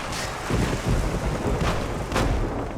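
Shotgun blasts in the video game Mafia: The City of Lost Heaven, several heavy booming shots spaced about half a second apart over a noisy rumbling background, no talk.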